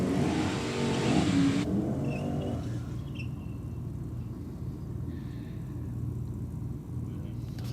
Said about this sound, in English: Engines are fired up. We're about to get into the burnout.